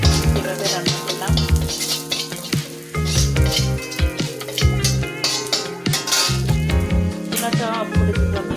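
Vegetable curry sizzles loudly in a new kadai as the tempering (baghar) goes in, a continuous crackling fry with brief bursts over a tonal background.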